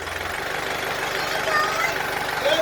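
A farm tractor's engine idles with a steady low mechanical throb that runs continuously at close range while people talk over it.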